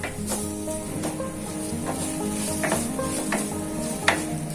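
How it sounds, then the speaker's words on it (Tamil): Garam masala and spices sautéed and stirred in a pan for a simple egg curry, giving a steady close sizzle with repeated scraping and stirring clicks of a spoon against the pan. "மசாலாக்க பச்சை வாசனை போறது வரைக்கும் நல்லா வதக்கிக்கலாம்."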